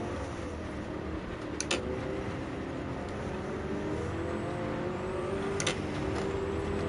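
A car engine at low revs in a low gear during a race in Gran Turismo 7, a steady moderately quiet hum and whir that stays even throughout, alone without talk.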